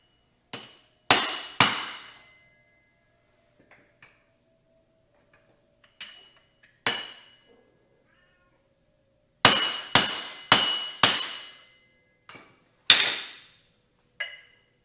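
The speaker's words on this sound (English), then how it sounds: "you hit it with a hammer and it'll push this back in" Sharp metallic hammer strikes on a 1 1/8 socket, seating a driveshaft center bearing; about a dozen close, ringing blows come in irregular bursts, some in quick pairs and runs, separated by quiet pauses.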